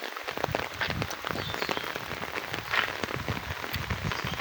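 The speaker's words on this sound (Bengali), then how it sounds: "আজকে যে বৃষ্টি পড়তেছে, প্রচুর বৃষ্টি পড়তেছে" Heavy rain pouring onto a chili field, a dense continuous patter of drops close by, steady and fairly loud with no voices.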